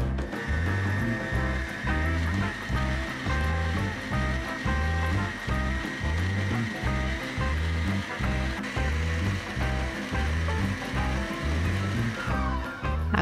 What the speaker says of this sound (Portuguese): Eu vou ficar um pouco quieta para vocês conseguirem ouvir o barulho que a batedeira faz